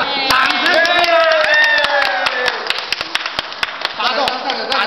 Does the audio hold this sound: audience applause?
yes